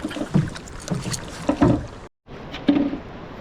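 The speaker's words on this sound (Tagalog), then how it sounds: "magsasagwa na lang tayo mga bok. Hindi na natin naandaran ng makina para tipid tayo sa gas" Wooden paddles working through water as a small fishing boat is rowed in heavy rain with its engine off, giving repeated splashing strokes against a steady wash of rain and wind noise, with a brief dropout midway.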